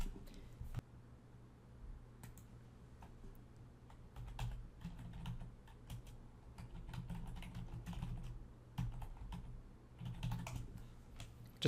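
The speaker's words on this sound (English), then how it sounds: "I'm going to type in here" Quiet, irregular keystrokes on a computer keyboard, with bursts of clicks and brief pauses across the whole stretch, close and soft with a low background hum.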